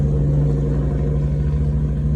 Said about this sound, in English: I wish this truck would go away